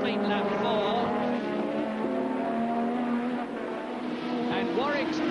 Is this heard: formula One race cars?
yes